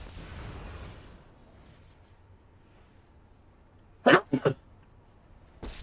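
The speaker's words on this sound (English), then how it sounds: "I can't stop sneezing." Two quick sneezes burst out close and loud in succession from a person who is a bit ill, followed by another short burst, with mostly quiet room noise before them.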